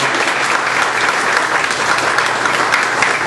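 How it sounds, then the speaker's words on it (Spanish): A conference audience applauds loudly and steadily as the event closes, a dense wash of clapping hands that holds evenly throughout. "Con un fuerte aplauso para cerrar esta actividad."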